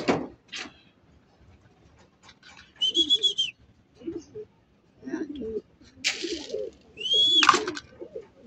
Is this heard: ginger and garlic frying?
no